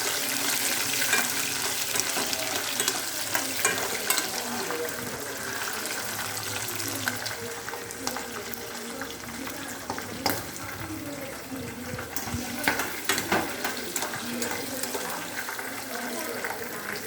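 Dried red chillies and green chillies fry in oil for mango pulihora, making a continuous close sizzle and crackle with intermittent scraping and stirring knocks over about seventeen seconds, without speech.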